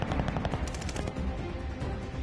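Rapid automatic gunfire from the video game Call of Duty Vanguard played on a PS5, dense bursts of loud shots rattling continuously with no pauses across the short stretch.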